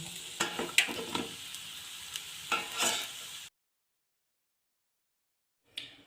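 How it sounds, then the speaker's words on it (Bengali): Coconut biscuits deep frying in hot oil, a soft crackling sizzle with a few sharp pops and clinks, then a sudden cut to silence before a brief return near the end. "এইভাবে সবগুলো বিস্কুট ভেজে নেব"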